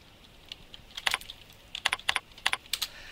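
Typing on a computer keyboard while entering data in point-of-sale software: light, close key clicks in irregular clusters of quick taps, with short pauses between bursts.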